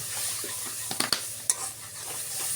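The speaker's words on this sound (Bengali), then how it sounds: "সব কিছু দিয়ে খুব ভালোভাবে একটু নেড়ে চেড়ে একটু জল দিয়ে দিচ্ছি, ভালো করে কষিয়ে নেব।" Spices such as turmeric and chili powder being stirred and fried in a pan for a spicy pangas fish bhuna, giving a soft steady sizzle with a few sharp spoon scrapes against the pan.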